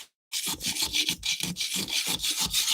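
Rhythmic, close scraping as a tool shaves red MAPEI waterproofing membrane off a tiled wall, with steady back-and-forth strokes that continue without pause and no voices.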